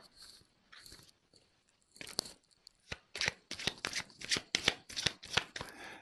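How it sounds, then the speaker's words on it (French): Tarot cards being shuffled by hand, a few soft riffles at first, then a quick run of sharp, crisp riffling bursts up close, with no voices. "je vais prendre d'autres cartes"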